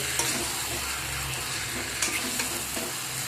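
Marinated chicken coated in yogurt, chili, turmeric, cumin and coriander powders sautés in a hot pan with spices, giving a steady close sizzle with a few soft scraping stir clicks.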